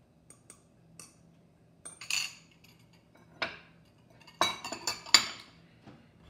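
Utensil clinks and scrapes against a bowl while meatball mixture is stirred together with beaten eggs, coming in scattered, quiet bursts with short pauses between them.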